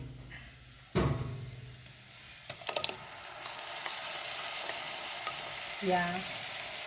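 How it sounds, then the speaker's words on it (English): Blended tomatoes tipped into a pan of frying liver: a sudden wet splash bursts into a loud, steady sizzle, with scraping stirs and a short spoken word. "we're going to add our blended tomatoes"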